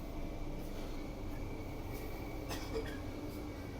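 Steady low rumble of a train ride on the Sirkeci–Kazlıçeşme line in Istanbul, heard from inside, with a faint hum and occasional light squeaks, no talking.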